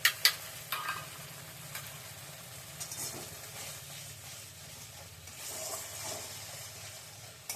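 Pointed gourd curry with turmeric and salt being sautéed and stirred in a pan, a soft continuous sizzle with occasional scraping stirs, fairly quiet and close.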